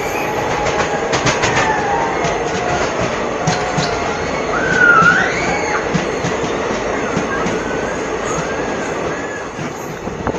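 The 15767 Alipurduar Junction Intercity Express runs along the line with a continuous loud rumble and rattle, rhythmic clicks of wheels over rail joints, and brief squeals partway through.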